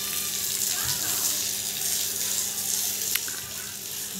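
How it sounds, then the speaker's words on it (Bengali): Water is poured onto a dry, heat-cracked earthen courtyard, making a steady, close, hissing splash that runs without a break. A faint voice sits underneath. "মা দেখো করছে, উঠানে জল দিচ্ছে"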